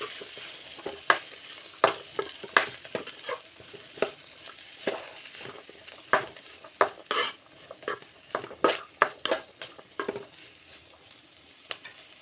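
A spoon stirs a chickpea usli with coconut and coriander in a frying pan. Irregular scraping clinks ring against the metal over a soft sizzle, close by and without speech.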